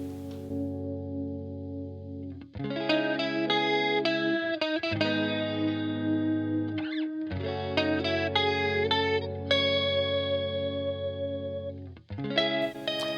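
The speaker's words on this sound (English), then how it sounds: "I like the Hirajoshi scale, and you can hear it playing in the background" An electric guitar with heavy effects plays sustained, shimmering notes and short runs in the Hirajoshi scale, thick with chorus and distortion, steady and fairly loud.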